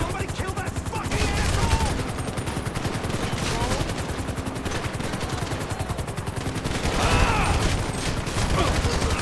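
Heavy automatic gunfire from a Grand Theft Auto V shootout at a construction site, loud and sustained in rapid bursts that swell and ease, with shouting voices faintly underneath.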